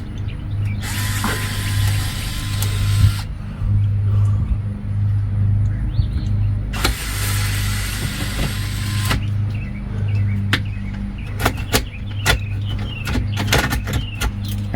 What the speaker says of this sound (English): we got a few more screws here to remove